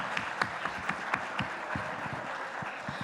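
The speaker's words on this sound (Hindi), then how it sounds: "जोरदार तालियां" An audience at a conference claps, with individual hand claps standing out sharply over a softer bed of applause, fairly close and steady throughout.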